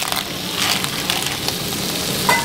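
Clams drop into a pan of sizzling butter, onion and parsley, with a steady close frying hiss and crackle running throughout and no voices.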